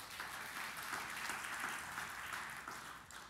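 Church congregation applauding during a sermon, a steady wash of clapping from many hands that holds for a few seconds at moderate distance.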